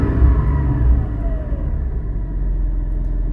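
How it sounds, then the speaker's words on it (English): A deep, steady engine rumble from a Porsche 718 Cayman GT4 with exhaust valves closed idles close by, fairly loud and even, with a low throaty drone and no voices. "You guys can hear the difference there, right? This is with the valves closed."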